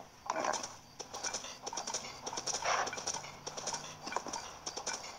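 Horse hooves clopping in a steady, fairly quick rhythm at close range in The Legend of Zelda: Tears of the Kingdom, with a few faint chirps in the background and no talking.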